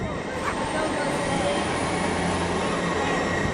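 Trains passing through Leeds station make a steady rolling rumble with faint wheel squeal, while voices murmur and talk nearby.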